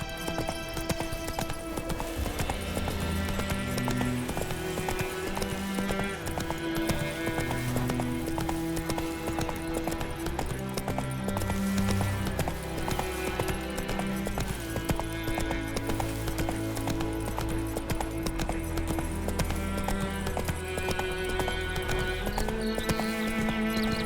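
Horse hooves clip-clop at a steady walking rhythm in The Witcher 3: Wild Hunt, mixed under continuous music and ambient game sound throughout.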